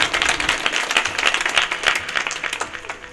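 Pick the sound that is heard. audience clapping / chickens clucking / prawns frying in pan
audience clapping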